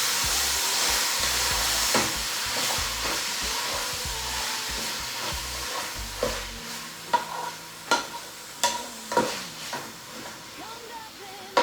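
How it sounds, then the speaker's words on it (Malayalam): Cabbage stirred and fried in a hot pan, an intense close sizzle for the first half, then quieter frying punctuated by sharp, regular scraping strokes of a spoon against the pan. "ക്യാബേജ് ഇട്ട് കൊടുത്തിട്ട് നമുക്ക് നന്നായിട്ട് ഇളക്കി പിടിപ്പിക്കാം."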